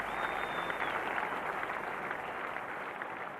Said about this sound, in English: Applause from Javed, from his teammates